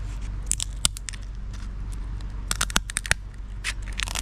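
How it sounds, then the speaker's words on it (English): Rusty shop scissors cut through a hard lobster shell in a series of sharp, close snips and crunches that come in irregular bursts over a low background hum. "You really want some badass scissors for this particular chore because shells are hard."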